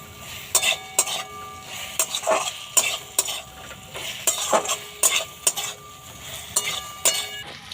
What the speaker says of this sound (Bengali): এবারে একটু গ্যাসটা জোর করে দু একবার নেড়ে ছেড়ে নাবিয়ে নেব